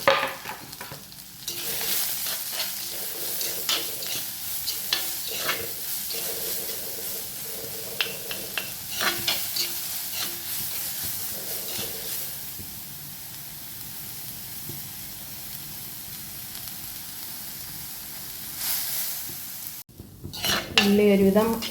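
Finely chopped onions fry in a pan for an elephant-foot-yam leaf thoran, with a steady sizzle and repeated clinking, scraping strokes of a spoon against the pan, close and busy throughout.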